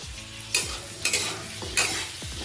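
Mango chutney seasoned with salt and turmeric is stirred in a pan, a spoon scraping in a few distinct sweeps over a soft steady simmer, close and alone.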